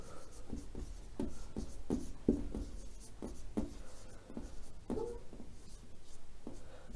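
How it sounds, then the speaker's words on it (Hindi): Pen or pencil scratching out an answer during a general-knowledge lesson, a steady series of short strokes and taps at close range, fairly quiet and alone. "लिखते हैं बच्चों चार्ल्स बेबेज को।"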